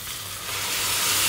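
Yakhni stock poured over chicken majboos in a hot pot gives a steady, loud sizzle and hiss that builds slightly over a moment, with no voices.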